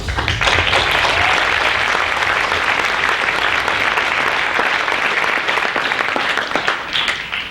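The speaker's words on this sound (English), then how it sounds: "let's bring out A Big Clap to Imagine Dragons" Audience applause at a wearable arts show in Sitka greets a designer's piece, loud, dense clapping from a large crowd sustained evenly for about seven seconds.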